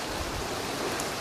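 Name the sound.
rain falling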